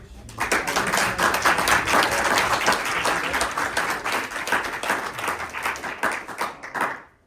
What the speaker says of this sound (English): Let's have one more round of applause for the readers.